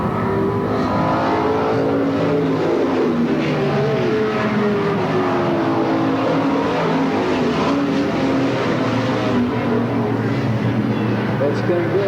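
Race cars roar continuously at Sandusky Speedway in 1985, engines droning and shifting pitch as the pack laps the oval, with a race announcer talking over the steady engine noise.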